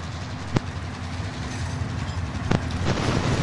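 A train passes in the video game Warzone, a steady low rolling rumble with a few sharp clanks, moderately loud and sustained throughout.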